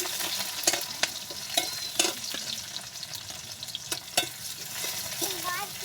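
Chopped onions fry in hot oil for a chicken curry, a steady sizzle broken by repeated spoon stirs and scrapes close by.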